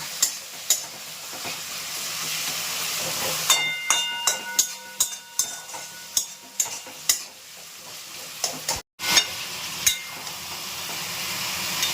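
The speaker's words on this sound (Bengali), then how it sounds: "চিকেন রান্না হচ্ছে।" Chicken for a thin curry frying and being stirred in a pan, a steady broadband sizzle with repeated sharp scrapes and clinks of the spoon against the metal, close and fairly loud with a brief dropout near the end.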